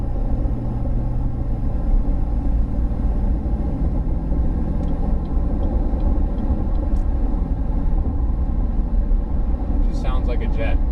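A diesel pickup truck fitted with a 30-inch FTE exhaust resonator accelerates, giving a steady, loud, low engine rumble heard from inside the cab, with a faint squeak near the end.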